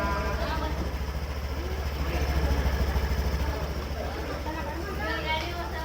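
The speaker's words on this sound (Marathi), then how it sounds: "स्टार्ट केलेली आहे बाईक" A new scooter idling after being started, a low steady engine putter running throughout beneath someone talking.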